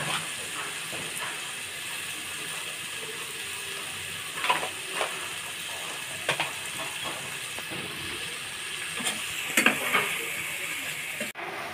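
Vegetables sautéing with turmeric and chili powder in a pan for a Bengali fish bhuna, a steady sizzling fry with brief stirring scrapes and crackles, close and continuous with no talking.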